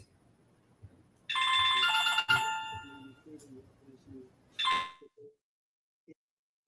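A telephone ringtone trills loudly for about a second, then a second burst follows after a pause, surrounded by near silence and faint indoor sounds.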